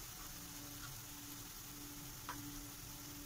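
Ginger garlic paste frying with onions in a pan for Mughlai chicken, giving a steady, even sizzle at close range with no talking.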